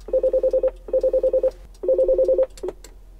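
Intercom phone buttons in a 2020 Mercedes Sprinter VIP van play three close, clear bursts of warbling beeps in quick succession, then a couple of short clicks follow.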